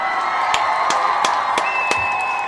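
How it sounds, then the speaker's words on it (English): A crowd applauds and cheers for the Umoja babies at a community gathering, steady clapping with whoops and sharp claps popping through, continuous and fairly loud throughout. "we want to make sure that all of our Umoja babies get a round of applause"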